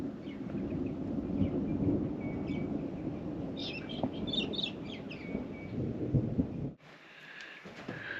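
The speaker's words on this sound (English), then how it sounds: "Oh, I hear that thunder." Faint, distant thunder rumbles low across snowy mountains ahead of an approaching storm, with scattered bird chirps over it and a brief gusty noise near the end.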